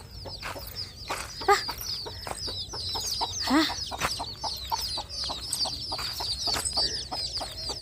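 Hens clucking with the high, busy peeping of many chicks, continuous and fairly close, with an occasional louder squawk.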